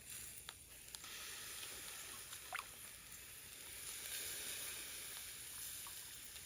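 Teriyaki with mirin and soy sizzling in a frying pan, a faint steady hiss with a few small pops and crackles throughout, no talking.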